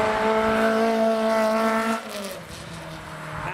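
An Ariel Atom sports car pulls away from traffic lights at a drive-through car show, its engine note rising steadily and loud before shifting down and fading as it moves off.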